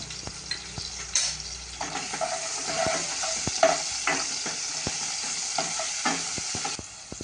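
Turmeric and curry leaves sizzle in hot tempering oil for a ridge gourd amti, hissing steadily while a spoon stirs and taps against the pan, close and clear.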